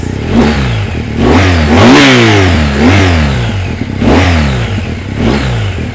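A BMW GS motorcycle engine fires up close by and loud, then rises and falls through several throttle blips, giving a deep, lumpy twin-cylinder rumble with a clattery edge and no talk over it.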